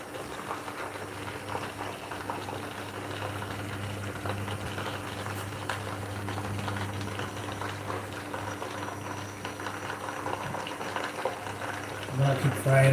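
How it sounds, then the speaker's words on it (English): Steady, dense sizzling and bubbling of chicken frying in hot oil in a pot, continuous and close, with a louder crackle near the end. "So I'm gonna keep frying it."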